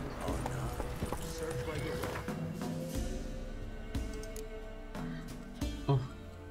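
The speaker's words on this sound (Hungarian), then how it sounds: "Hol van a lovam? Itt van a lovam." Horse hooves clip-clopping in The Witcher 3: Wild Hunt, a steady rhythmic trot under game music and effects, with someone talking over it.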